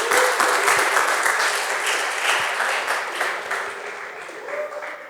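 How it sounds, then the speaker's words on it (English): An audience applauds during a leadership session as a man named Raja comes forward, with dense, steady clapping that gradually thins and fades, and a voice faintly audible under it. "Please clap for Raja as he comes"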